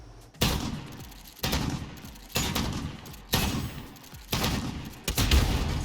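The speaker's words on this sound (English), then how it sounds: "spin in circles and keep shooting until one of us dies" Gunfire in the video game Modern Warfare during a shotgun match: about five loud, close blasts at roughly one-second intervals, each followed by a short decaying tail, with no talk.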